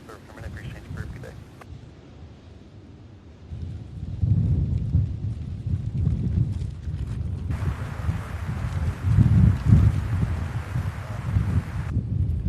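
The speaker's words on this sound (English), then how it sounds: "I'm trying not to blow away, guys. That wind picked up out of the west." Wind gusts across an open airport during plane spotting, a low roaring rumble that swells and buffets the microphone, building louder midway and staying rough and continuous.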